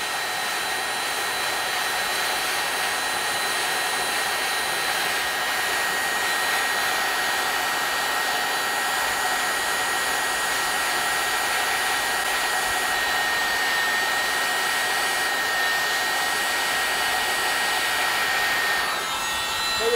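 A hot soldering tool plastic-welds a car bumper, giving a steady electrical whine and hiss with a faint constant tone, unbroken and close for the whole span.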